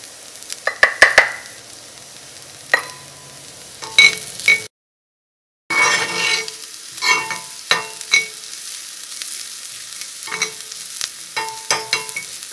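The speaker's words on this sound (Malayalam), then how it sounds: "സവോളയ്ക്കും ചെറുതായിട്ടൊന്ന് പൊരിഞ്ഞു തുടങ്ങിയിട്ടുണ്ട്" Onions, green chillies, curry leaves and turmeric frying in hot oil, a close crackling sizzle broken by repeated sharp spatula knocks and scrapes, with a brief silent gap midway.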